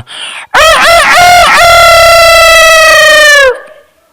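A voice imitates a rooster's crow: one long, loud, strained call that rises and wavers, then holds a steady high note before cutting off.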